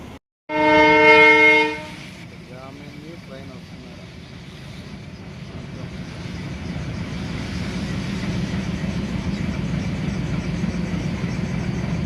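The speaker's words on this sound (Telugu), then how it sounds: "ఒక ట్రైన్ ఉండని చూడండి ఆ ట్రైన్ వెళ్ళిపోతే మనం వెళ్ళిపోవాలి" A loud train horn blasts for about a second, then the rumble and clatter of a passing train builds and continues steadily, with some voices underneath.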